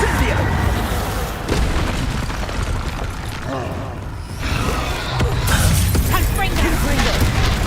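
Fire spell cast in Hogwarts Legacy, a burst of booming, crackling blasts amid a constant barrage of combat effects, loud and dense, with a voice shouting spell names over it.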